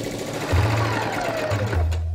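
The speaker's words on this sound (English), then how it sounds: "It's like you're drawing with the sewing machine." A sewing machine stitching black thread through a book-page craft piece gives a steady, close motor whir with a quick needle chatter, shifting pitch slightly as the speed changes, heard alone.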